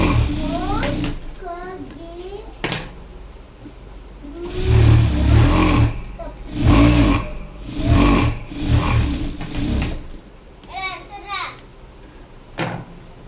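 An electric sewing machine stitches a high neck blouse in several whirring bursts of a few seconds each, close by, with voices, including a child's, talking between and over the runs.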